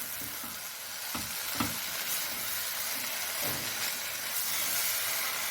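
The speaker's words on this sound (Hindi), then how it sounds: "अब इसे अच्छे से हम मिक्स कर देंगे" Soy sauce stirred into shawarma filling frying in a pan, giving a steady close sizzle and hiss with a few scraping stirs of the spoon, and no one talking.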